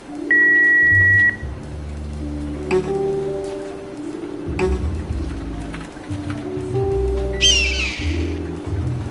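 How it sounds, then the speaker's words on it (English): A steady electronic tone, like an answering machine beep in a video game, sounds loud and alone for about a second, followed by assorted synthetic game tones, hums and a brief chirping flurry near the end. "Please leave a message at the beep"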